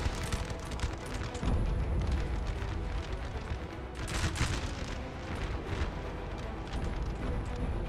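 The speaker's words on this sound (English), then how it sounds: "Oh, some English artillery. Firing on the French unit there." English artillery batteries firing on a French unit in the Napoleonic battle game Napoleon: Total War, at the Sagunto battle: dense, continuous rumbling booms and cannon blasts layered over a loud battlefield din, with bursts of heavier firing around the middle.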